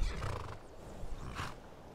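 A horse in the video game Skyrim Special Edition whinnies loudly and close, a shrill neigh over a low rumbling background, with a second brighter cry near the end.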